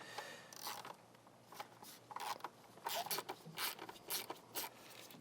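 Ratchet clicks in short bursts as E6 Torx bolts are backed out during an Amsoil oil and filter change on a BMW G87 M2 / G80 M3, with steady moderately near ratcheting and brief pauses between strokes.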